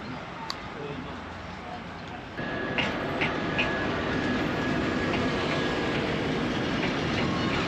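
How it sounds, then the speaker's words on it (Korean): A sleeper train travelling from Nukus to Bukhara in Uzbekistan rumbles steadily, with a continuous rolling roar and faint rail clatter that grows louder partway through. "누쿠스에서 도하라까지는 약 8시간 정도 기차를 타야 되고 이 기차는 슬리퍼칸입니다"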